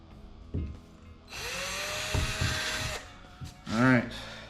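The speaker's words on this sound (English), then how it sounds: "I'm just gonna drill this into place." Power drill with a very fine bit driving into a kayak rail, a steady high whine for under two seconds between quieter handling noises and a brief voice.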